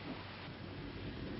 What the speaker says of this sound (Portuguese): Olha o temporal que vem aí.